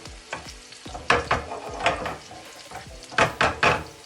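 Garlic sizzles and crackles in hot oil in a pan that is shaken now and then for naga chilli pickle, with close, uneven bursts of frying and stirring scrapes and no talk.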